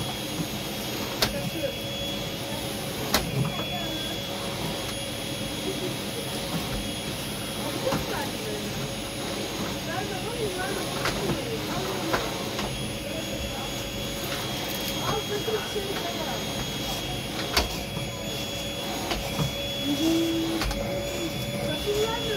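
A vacuum cleaner drones steadily and fairly loud throughout a home, with a constant motor whine and occasional knocks and bumps over it.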